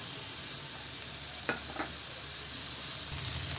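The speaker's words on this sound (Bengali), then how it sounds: "তেলটা গরম হয়ে আসলে আমি দিয়ে দেবো পেঁয়াজ কুচি" Chopped onion fries in hot oil in a pan for a small-fish curry, giving a quiet, steady sizzle with two soft utensil taps midway.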